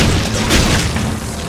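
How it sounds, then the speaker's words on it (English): Explosions in the video game Dragon's Dogma: Dark Arisen, a loud, dense booming blast with a rumbling low end that lingers through the short stretch, with no talk. "Let's make use of these explosions."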